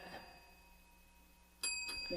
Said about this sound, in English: Where's my bell? I always have to have that. Do you hear that?